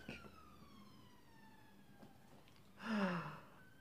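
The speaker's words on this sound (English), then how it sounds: "Just love that siren." A siren wails with descending sweeping tones, fading off then swelling louder near the end as it passes nearby on a main road.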